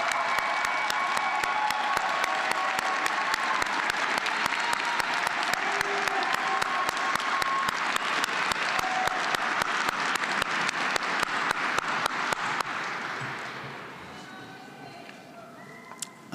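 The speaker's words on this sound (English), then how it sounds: "Another round of applause for all of our Bachelor of Science graduates" Sustained applause fills a coliseum at a fall electrical and computer engineering commencement for Bachelor of Science graduates, dense crowd clapping with faint cheers that holds steady, then fades out over the last few seconds.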